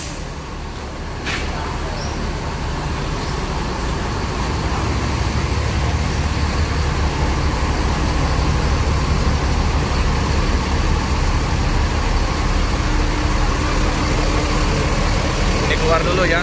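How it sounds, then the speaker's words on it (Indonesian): Rosalia Indah bus idling and pulling out of a cramped bus parking area, a steady low diesel rumble that builds slightly and holds, with people talking nearby. "kita liput bus keluar"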